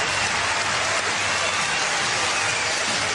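Loud, dense applause from a tennis crowd at the 2006 US Open final saluting Andy Roddick, a steady roar of clapping filling the whole moment without a break.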